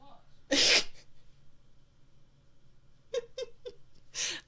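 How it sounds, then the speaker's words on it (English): Indoor cat named Merlin, upset at being shut out of a room, gives a few short, yelling meows at close range between quiet pauses, with a loud breathy burst and faint talk nearby. "Is he just meowing at you?"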